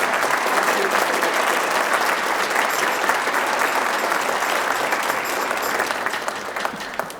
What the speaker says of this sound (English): would you please give Sarah a round of applause